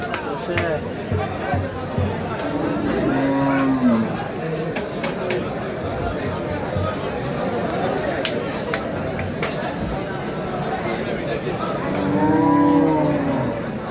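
Cattle moo loudly twice at a cattle market in Bangladesh, one long call early and another near the end, over a busy crowd murmur of chatter and background voices.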